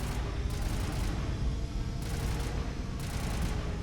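Gunfire in the video game Mass Effect, a dense continuous barrage of shots that stays loud and steady throughout, with bursts growing brighter at intervals.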